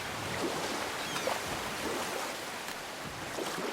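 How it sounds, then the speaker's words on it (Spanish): Water and waves wash in a steady, soft, continuous roar in the God of War video game, with no voices over it. "El sonido del agua es relajante."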